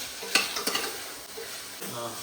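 Spices sizzle and crackle in hot oil, with a couple of sharp spatters early on and a steady hiss throughout.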